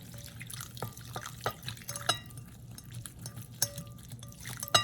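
Water trickles and drips into a bowl of garlic sauce made with soy sauce and sesame oil, a quiet series of irregular plinks and small splashes over a low background.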